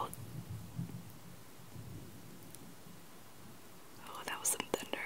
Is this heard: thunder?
yes